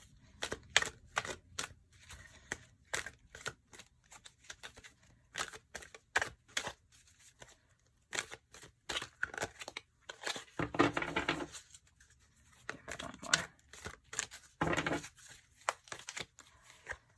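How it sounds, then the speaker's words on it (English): Repeated bursts of a new, stiff tarot deck being shuffled, quick riffling flutters and slaps separated by short pauses, close and fairly quiet, with no talking. "It's a relatively new deck, so it doesn't shuffle very easily."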